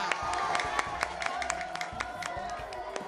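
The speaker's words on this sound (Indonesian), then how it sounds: "pada tepuk tangannya lagi buat Tasya" Audience applause at a lively market event in Jakarta, brisk scattered clapping with some cheering from a nearby crowd, steady for about three seconds.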